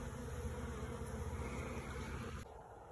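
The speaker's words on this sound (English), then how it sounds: "the stragglers now are just going into the sack" Honey bees swarm around a sack at dusk, a steady low buzzing hum that stays constant and close, then drops slightly softer near the end.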